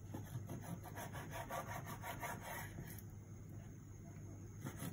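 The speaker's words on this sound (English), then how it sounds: "what you need to do is just cut nice thin strips, I would say about 1 centimetre wide" A knife slices beef into thin strips about a centimetre wide on a board, giving a steady faint rhythmic scraping and rubbing close by, with soft background hum and no talk.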